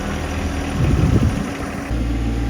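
A John Deere tractor engine idles steadily nearby during yard clearing, with a brief swell of low rumble midway before settling back into an even, continuous drone, alone without talk.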